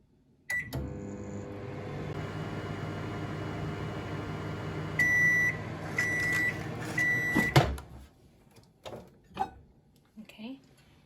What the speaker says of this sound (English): I'm going to put this in the microwave